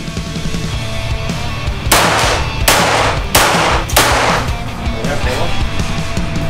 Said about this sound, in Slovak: A posledná pištoľ, z ktorej pôjdeme. 44 Magnum.